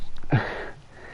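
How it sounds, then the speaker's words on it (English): Loud breathing sound in The Backrooms horror video game: a single sharp, close inhale or sniff burst, preceded by faint softer breaths and trailing into a quieter airy tail. "Some of the breathing's very loud."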